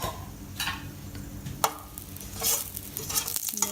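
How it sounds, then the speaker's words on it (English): Spices with cumin and hing sizzling in a pan for rajma masala as they are stirred, a soft crackling sizzle broken by several sharp spoon scrapes and clicks, close, no speech. "and then give it a nice stir."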